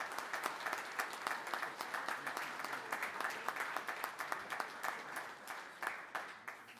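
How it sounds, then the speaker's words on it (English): A crowd at a Sons of The American Legion spring national executive committee meeting gives a sustained round of applause, dense steady clapping that fills the room from start to finish. "Big round of applause."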